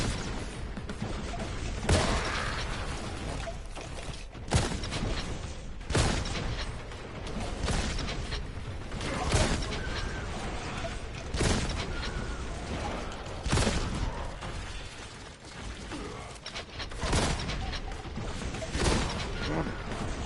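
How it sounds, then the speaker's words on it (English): Heavy gunfire and explosive blasts from Warhammer 40K Boltgun on PS5 come as repeated loud bursts and booms over a constant dense battle roar, with the player's voice faintly underneath. "There's just so much gunfire coming my way."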